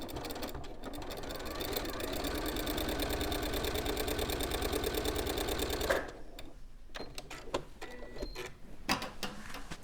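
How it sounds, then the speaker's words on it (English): A sewing machine back stitching a collar seam runs in a steady, fast mechanical chatter for about six seconds, then stops, leaving a few soft clicks and handling noises. "just line up your needle and drop your needle down and then just do a little back stitch there"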